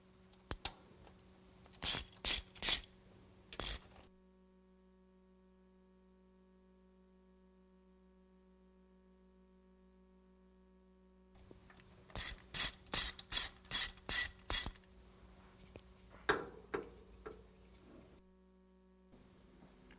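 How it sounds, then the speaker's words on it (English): A hand ratchet clicking in quick bursts while loosening the mounting bolts of an Edelbrock carburetor, close and crisp, two separate runs of rapid clicks with a long quiet gap and faint metallic handling after. "next we remove the mounting bolts"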